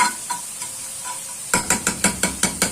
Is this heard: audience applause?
no